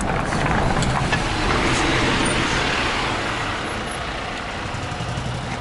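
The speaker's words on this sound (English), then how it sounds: "I'm going to get out of the way of the bus." A bus passes on a city street, a loud steady roadway rumble that swells and slowly fades, with general traffic noise around it.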